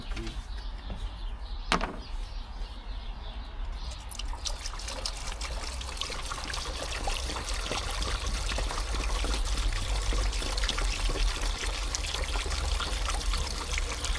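Water pours steadily into a baking tool during a refill, a continuous close trickling stream that builds slightly in fullness, with a brief knock near the start and no talking.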